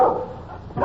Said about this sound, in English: He's making an awful lot of noise for a little fella.